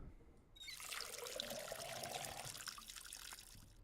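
Water trickles and pours steadily onto plants in a cooking and farming video game, a soft continuous splashing stream lasting a few seconds after a brief quiet start.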